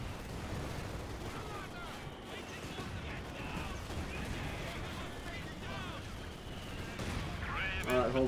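A battle in the video game Company of Heroes 2 with sustained rattling gunfire and distant booming bursts rolling on without pause, while voices talk over it.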